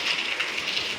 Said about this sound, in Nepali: असिना यो असिना देख्नु भएको छ